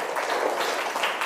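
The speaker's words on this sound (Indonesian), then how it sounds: "Nah, tepuk tangan buat Nindya." Classroom applause for a student, a short burst of steady clapping from several pupils that runs evenly through the moment without voices.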